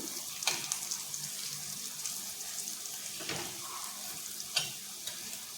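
Banana slices fry in plenty of hot oil in a pan, giving a steady close sizzle and hiss broken by a few sharp utensil clinks as they are turned.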